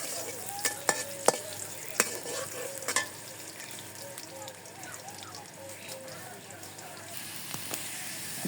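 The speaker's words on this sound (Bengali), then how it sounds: "তেল দিয়ে দিই আর এই পাশে রসুন কুচা পেঁয়াজ কিছু কেটে রাখছিলাম দিয়ে দিই নাড়া দিয়ে দিই" Chopped garlic and onion hit hot oil and crackle loudly, followed by a steady sizzle as they are stirred with a few sharp utensil knocks against the pan early on, no voices.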